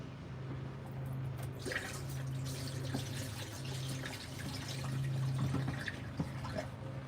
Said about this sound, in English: We'll pour some of this in there.